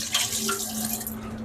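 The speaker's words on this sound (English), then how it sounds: "dump out all the water" Water poured out of an ice machine's water filter housing during a filter change, a steady close splashing and running flow with a faint hum underneath.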